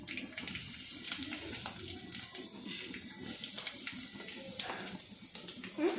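Grated coconut frying in a pan just before rice goes in, a soft steady sizzle with faint scraping and stirring, quiet and close, while people talk now and then.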